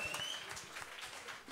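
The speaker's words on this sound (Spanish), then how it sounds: "Fuerte el aplauso." Brief burst of audience applause at a cumbia concert, a dense patter of many hands clapping, fairly faint and steady for about a second and a half.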